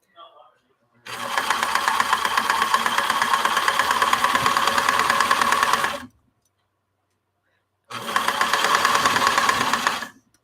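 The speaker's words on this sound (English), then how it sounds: "I am doing reverse stitches on either side of the opening as well as along the bottom." A sewing machine runs reverse stitches on a fabric owl in two steady bursts, a long whirring run of about five seconds, a pause, then a shorter run, close and loud.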